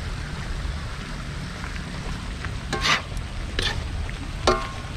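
Chili is stirred into spicy adobo in a pan outdoors, a steady close sizzle of frying with a few distinct scraping stir strokes rising above it.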